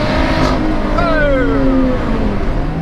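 A third-generation Lotus Exige with a V6 engine drives through the grounds of Goodwood Estate; its engine revs up through the gears with a loud, rising, sustained note and steady pitch sweeps between shifts.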